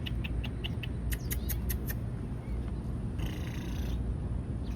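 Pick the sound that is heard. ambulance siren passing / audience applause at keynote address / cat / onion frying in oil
cat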